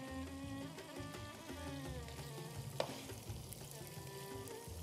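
Onions sizzle and crackle in a hot cooking pot while being stirred, a steady low frying hiss with faint scraping, quiet and close, no voices.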